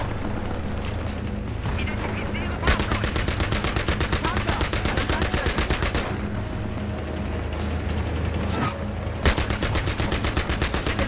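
Sustained machine gun fire in Battlefield 3 hammers in rapid, evenly spaced shots through most of the clip, loud and close, with a couple of heavier thumps and brief lulls between bursts.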